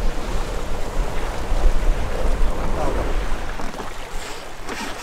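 Wind rushes over open water during sailing, a broad steady noisy roar mixed with waves washing against the boat, with a voice speaking faintly beneath.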